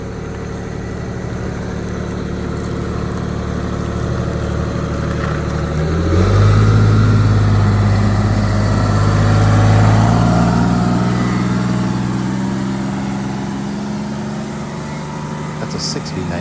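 A Detroit Diesel 6V92 TA engine in a Wanderlodge bus drones loudly at a high idle, its rumble swelling midway and settling again, with voices partly audible over the steady engine noise.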